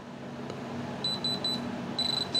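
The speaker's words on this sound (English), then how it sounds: "when you hear that beep, those beeps, those three beeps, that is a diamond" High electronic beeps from a diamond tester come in two quick bursts of three, fairly faint over a low background hum.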